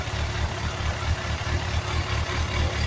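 A Yamaha GTS 1000 motorcycle engine idles steadily while its cooling fan spins, giving a constant low throbbing hum with an even whir on top, close and unbroken.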